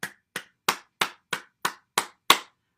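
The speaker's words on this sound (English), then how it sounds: "I'm successfully clapping my hands" A single person claps their hands eight times at a steady, slightly uneven pace, each clap sharp, close and distinct with brief silence between, no talking over it.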